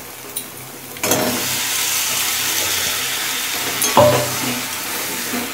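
Elephant foot yam tipped into hot masala in oil, a sudden loud burst of sizzling that settles into a steady fry, then a clatter of stirring and a fresh flare-up.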